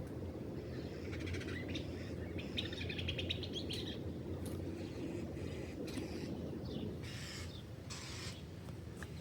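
Birds chirp in quick, bright bursts, some near and some farther off, over a steady low outdoor hum.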